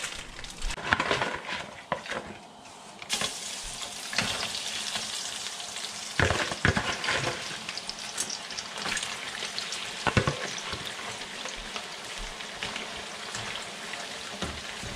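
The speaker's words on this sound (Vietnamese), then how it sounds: "chiên ngập nó trong dầu luôn để cỡ vài phút thôi à" Spaghetti deep frying in a pot of hot oil, a steady dense crackling sizzle running throughout with a few louder pops and bursts, close by and with no talking.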